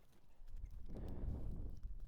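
A young horse moves around an arena, its hooves thudding and scuffing on the ground in an uneven, lively rhythm, fairly close and moderately loud with no talking.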